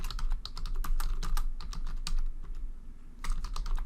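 Rapid, steady typing on a computer keyboard while entering presentation slide text, dense clicking keystrokes close to the mic with a brief pause before another burst.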